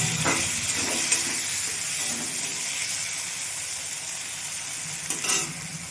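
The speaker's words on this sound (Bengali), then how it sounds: "টমেটোটা আমি নরম করে ভেজে নেব" Two medium tomatoes fry in oil over cooked onions in a pan, a continuous moderate sizzle and hiss with occasional stirring scrapes, close and without talk.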